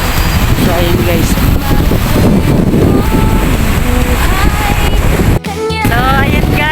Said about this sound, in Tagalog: Mahangin lang kasi dito.